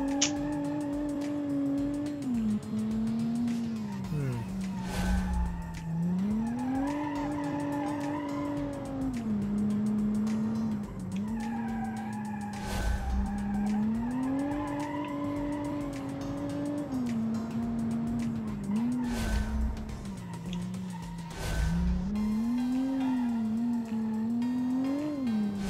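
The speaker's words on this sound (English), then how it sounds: "So let's see how this naturally aspirated engine works." A rear-wheel-drive minivan with a naturally aspirated engine drives hard, its engine note rising and falling steadily while tires squeal and skid, loud and continuous throughout.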